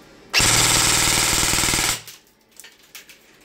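A TUPA ETU V2 airsoft gun fires on full auto in one loud, rapid mechanical burst of about a second and a half, then falls quiet, with only faint clicks and handling noises afterwards.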